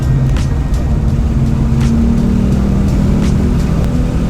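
A V6 Mustang engine drones steadily on a race track during an SCCA time trial, a loud, sustained in-car engine tone with the power held on and no talking.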